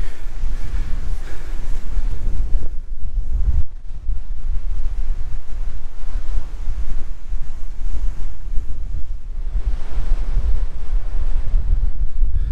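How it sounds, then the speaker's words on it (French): Strong, steady coastal wind buffets the microphone with a deep, continuous roar, waves and surf rushing faintly underneath along an open shore in the Magdalen Islands at sunrise. "lorsqu'il y a beaucoup de vent comme ça, vu qu'on est sur le bord de la côte"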